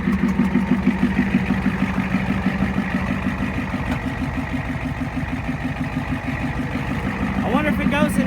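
A 1989 Ford F-350 dually pickup with a 7.3 IDI diesel idles steadily nearby, its low, even clatter continuous throughout, running again after six years unused.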